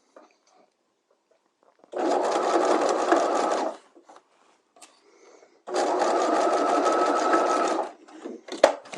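A sewing machine stitches a patch pocket at a half-inch seam in two loud, even runs of about two seconds each, with quiet pauses between.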